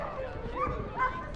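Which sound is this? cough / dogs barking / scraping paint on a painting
dogs barking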